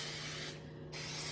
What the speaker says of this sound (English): So I'm gonna go ahead and generously spray.